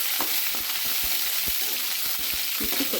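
Green chillies fry in a spoonful of hot oil for a brinjal pickle, giving a constant dense sizzle with soft scattered pops and light utensil taps throughout; close, steady and unbroken, with no voices.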